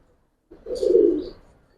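A single soft, low coo from a male Giribaz pigeon, close and alone after a brief quiet start.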